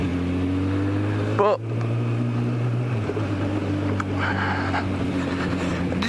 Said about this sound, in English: I accelerated there and I still had full control of the vehicle